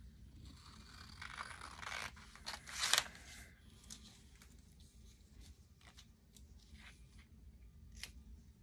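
Scissors snipping paper for a collage glue book, a close run of rustling cuts and scraping blade clicks, busiest early on and then sparse single snips.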